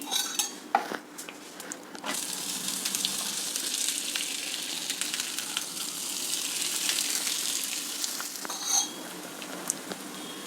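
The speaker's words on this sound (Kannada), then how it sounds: "ತವಾ ಬಿಸಿಯಾಗಿದೆ ಮೇಲೆ ಸ್ವಲ್ಪ ಎಣ್ಣೆ ಹಚ್ತೀನಿ" Sizzling hiss of oil on a hot tawa as a vegetable ragi roti cooks, steady and close, with a few sharp clinks of a utensil at the start and near the end.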